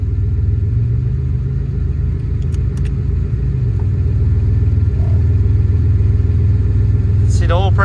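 An abandoned 1986 Nissan Maxima wagon engine idles with a steady low rumble, close and continuous, with a brief squeak near the end.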